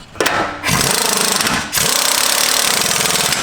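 A power tool, likely an impact wrench, runs in two loud continuous bursts with a short pause between them as it tightens the track bar bolt on a Jeep JL Wrangler during a Rancho 2-inch lift install.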